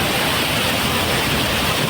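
The flooded Kempty Falls torrent in Mussoorie, carrying mountain debris and stones after heavy rain, thunders down in a dense, unbroken hiss and roar, loud and close throughout.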